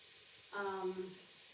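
Sausage, bacon, onion and potatoes sizzle in a pan, a short burst of frying hiss rising briefly and fading, faint and close.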